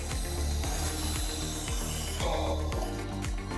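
A TAWI vacuum lift's built-in bottom swivel rotates a box, producing a close, steady series of mechanical ratcheting clicks under a constant machine hum.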